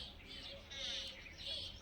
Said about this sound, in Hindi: ये बांस का पेड़ है और यहाँ पर इतनी सारी चिड़िया रहती हैं इसके अंदर